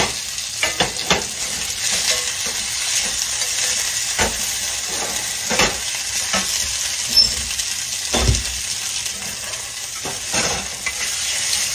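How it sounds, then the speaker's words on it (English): Mushrooms and onions sauté in a pan with a steady sizzle, while a spoon scrapes and stirs them in bursts of clatter throughout, close and clear with no talking. "when they saute a little bit, they get smaller in your onions and stuff"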